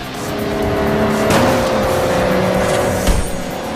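Cars race in the open-world driving game Forza Horizon, engines droning loudly and steadily throughout, with a swell of a car passing close around the middle and a brief thump near the end.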